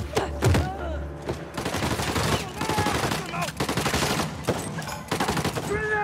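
Gunfire in the video game Uncharted: The Lost Legacy, including shotgun blasts, comes as repeated loud sharp bursts and rapid volleys over several seconds, with combat noise filling the gaps.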